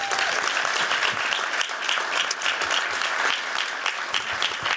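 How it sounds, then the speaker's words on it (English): Sustained applause from a summit audience honoring a housing innovation team, even and dense, with no voices standing out. "I want to give one more round of applause for the Haus group"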